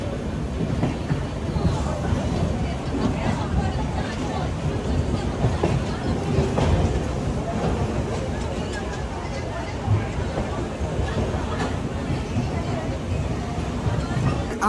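The 12857 Tamralipta Express between Howrah and Digha rumbles along with a continuous low roar and faint rhythmic clatter of wheels on rails, heard from inside the carriage beneath a murmur of passenger chatter.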